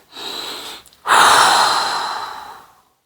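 A person draws a long, audible breath during a mat Pilates breathing exercise, with a brief exhale-like rush first, a short pause, then a strong, close inhale that gradually fades out, no talking.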